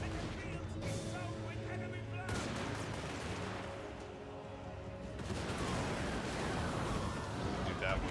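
Massed gunfire crackles through a continuous battle din in the strategy game Total War: Warhammer 3, with dense overlapping volleys and rumbling impacts, loud and unbroken throughout.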